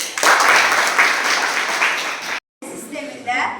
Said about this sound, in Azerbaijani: alqış da gəlsin